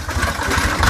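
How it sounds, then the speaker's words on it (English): A car engine revved hard with its engine mounts unbolted, giving a lopey big-cam sound: loud, close, rhythmic low pulsing throb across a short burst, no speech. "if you unbolt your engine mounts and rev it to the moon, you can end up with a super neat big cam sound"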